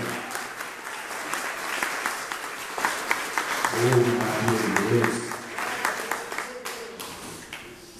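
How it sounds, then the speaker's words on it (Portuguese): A church congregation applauds during a sermon, a dense sustained clapping that swells mid-way with voices rising underneath, close and loud throughout. "Vamos aplaudir o Senhor Jesus."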